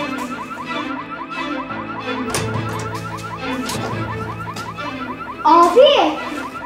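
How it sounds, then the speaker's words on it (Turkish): A car alarm wails outside with a rapid repeating warbling tone that pulses steadily throughout, while people talk and shout nearby and a louder burst of voices comes near the end. "Bizim arabalardan birinin alarmı falan olmasın."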